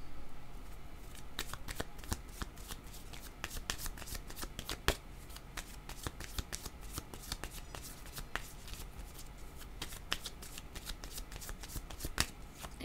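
Tarot cards shuffled by hand during a reading, a steady run of crisp riffling slaps and flicks, close and fairly quiet, with no talk over it.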